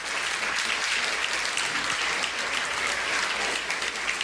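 A church congregation at a Spanish-language worship service bursts into loud, sustained applause filling the room for several seconds.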